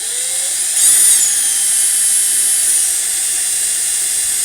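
A power drill bores a hole through a workpiece on a project, a steady high-pitched whine running continuously and close, with a slight surge in pitch about a second in and no talking.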